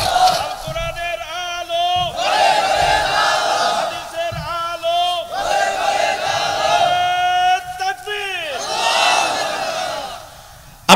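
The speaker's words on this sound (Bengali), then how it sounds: "তাকবীর" Large crowd at a religious sermon gathering shouting the takbir, Allahu Akbar, in loud unison, several swelling chanted calls rising and falling one after another, with a lead voice prompting between them.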